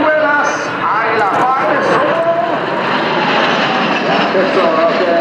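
Patrulla Aguila display jets fly in formation at the Royal International Air Tattoo at Fairford, a loud, steady engine roar under a commentator speaking over a public address.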